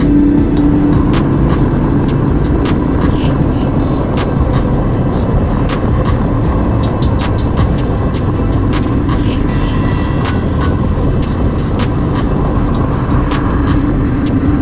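A motorcycle cruises down an open road with few cars around, its engine a steady, loud, close drone blended with rushing wind for the whole stretch, with no talking.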